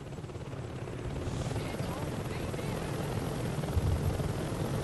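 A helicopter in the Saints Row 2 video game gives off a steady, dense rotor drone with a low thumping roll that swells slightly toward the end, continuous and close.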